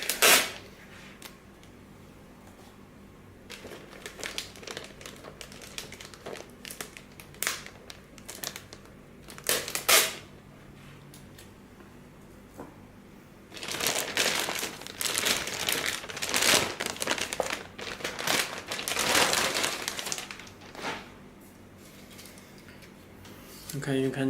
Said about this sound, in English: Let me take out this screen protector.